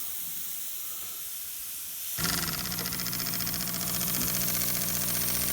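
Steady compressor hiss at first, then a twin cylinder marine steam engine model starts up in reverse with a rapid, rhythmic chuffing and hissing that stays loud and even.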